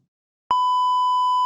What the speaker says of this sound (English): I hope that isn't annoying, that beep